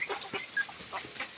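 Chickens of a breeding flock feeding on the ground, giving soft scattered clucks and short chirps from chicks close by, irregular and fairly quiet.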